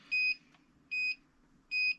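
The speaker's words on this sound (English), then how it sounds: "when your fly sky radio gets low, it starts beeping" Low-battery alarm from a FlySky RC radio transmitter: three identical short electronic beeps, evenly spaced about a second apart, clear and moderately loud over a faint low hum.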